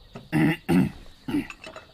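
Three or four short, forceful coughs in quick succession, close and fairly loud.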